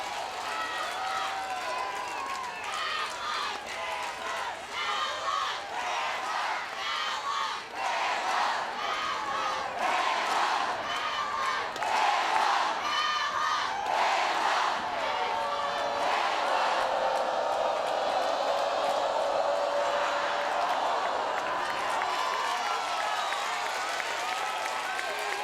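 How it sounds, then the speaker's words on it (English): Stadium crowd at an NCAA softball super regional game between Alabama and Nebraska, steady loud cheering, whooping and clapping throughout, swelling near the middle, with a commentator's voice mixed in. "This crowd is into it."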